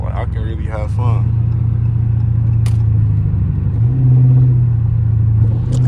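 A catless car's exhaust revs hard on a night street, rising and falling with deep droning pulls and a sharp pop partway through, with a voice briefly talking at the start.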